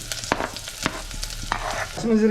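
Chopped onions sizzle and crackle in a hot pan as the base for chicken biryani, with sharp stirring scrapes at intervals and the frying steady and close, no voices.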